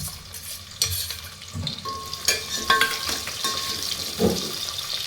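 Green chillies and onion go into hot oil with bay leaf and biryani masala for chicken fry biryani, bursting into loud sizzling with repeated clanks and scrapes of stirring and a few clattering knocks.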